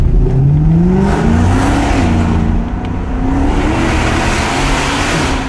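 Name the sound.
Mercedes-AMG car engine and exhaust revving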